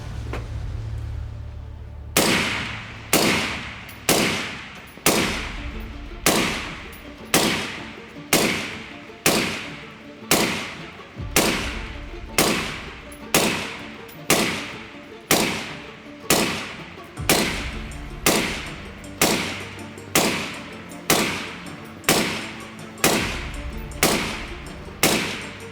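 Suppressed 5.56 NATO rifle shots from a KGM R556A2 suppressor crack out loud and sharp at a steady pace of about one per second, some two dozen reports with short decaying tails and no voices.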